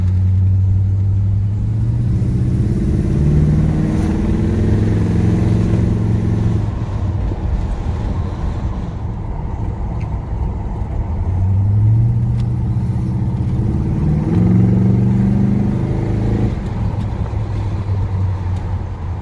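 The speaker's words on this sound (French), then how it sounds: "Ce Chevrolet C10 de 1986 qui méritait que je vienne le voir." A 1986 Chevrolet C10 Short Wide pickup's engine runs with a low, rumbling idle, swelling into a couple of revs before settling back, close and steady with no voices.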